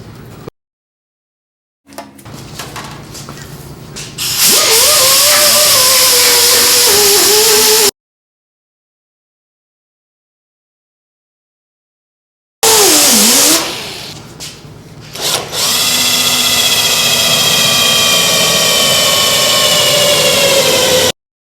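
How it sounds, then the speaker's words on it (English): A power tool cuts off a body panel on a muscle car being restored, giving two long, loud, high whining bursts with shifting pitch, separated by a stretch of silence, close and alone. "This panel here, I'm fixing to cut it off."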